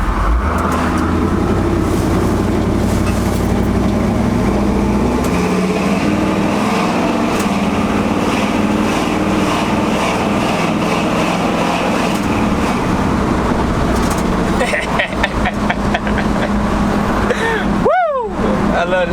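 Truck engine running steadily with a loud, rumbling idle and drone that holds throughout, a voice speaking over it at times, ending in a brief whine near the close.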